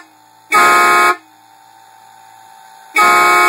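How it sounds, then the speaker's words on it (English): Vehicle air horn blasting twice, loud and close, with a long steady tone, a quieter hum lingering between the blasts. "now let's plug this in, and then let's listen to the horn"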